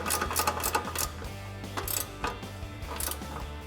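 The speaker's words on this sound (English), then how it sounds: "wrench to tighten down our 3 bolts" A ratchet wrench tightens the three upper control arm bolts on a 2014-2020 Ford F-150, producing rapid, close clicking in bursts with brief pauses between strokes.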